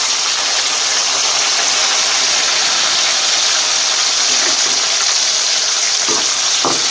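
Tomato pieces frying in a hot pan for a Tulu fish curry give a steady, loud hiss and crackle throughout, with a few faint clinks of stirring near the end.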